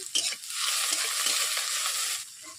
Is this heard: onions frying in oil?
yes